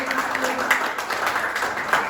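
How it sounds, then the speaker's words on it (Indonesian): Applause from a class audience in a teaching session, a steady dense patter of many hands at moderate loudness, with speech mixed in. "Kasih tepuk tangan."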